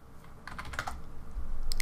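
Typing a value on a computer keyboard while modeling in Blender, a quick burst of close, crisp key clicks with a final firmer press, no talk.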